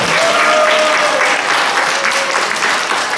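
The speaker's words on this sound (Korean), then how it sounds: "박수 한번 부탁드립니다" A church congregation at a Sunday worship service applauds a deacon warmly. The clapping is loud and steady for a few seconds, with no talk over it.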